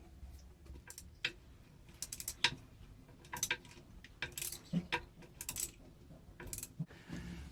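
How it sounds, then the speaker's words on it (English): A flex-head ratchet wrench backs screws out of the fuel filter assembly on a Mercruiser 350 MAG MPI engine in a Tahoe 234 boat, giving close, bursty ratcheting clicks in quick runs with short pauses between strokes. "we're going to have to remove this screw, and this screw, and that's the purpose of the flex-headed wrench"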